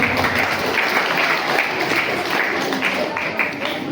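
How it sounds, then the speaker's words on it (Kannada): Audience applause at a ceremony honouring children at an inauguration and educational aid event, steady dense clapping from a crowd throughout, fairly loud and continuous with no pause. "ಅವರಿಗೆ ಚಪ್ಪಾಳೆ ತಟ್ಟುವ ಮೂಲಕ ಅವರನ್ನು ಕೂಡ ಗೌರವಿಸೋಣ"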